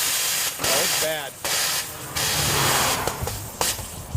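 An overheating 1955 Chevy truck with a 426 Hemi vents steam in harsh, loud bursts of hiss that start and stop several times while people talk nearby.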